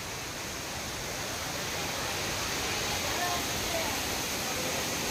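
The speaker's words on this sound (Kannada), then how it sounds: "ನೋಡ್ರಿ, ನೀರು ಎಲ್ಲ ಇಲ್ಲೇ ಬೀಳ್ತಾ ಇದೆ" Water pouring down at Kallathgiri waterfall, a dense broadband roar that holds steady and loud throughout without a break.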